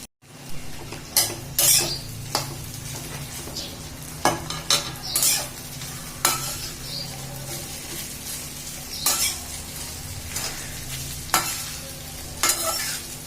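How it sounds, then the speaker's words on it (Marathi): Rice and mixed vegetables for veg pulao are stirred in a hot pan, with a steady sizzle and a spoon scraping and clinking against the metal at irregular intervals throughout. "थोडा फिटक करून आणि चांगलं हलवून घ्यायचं"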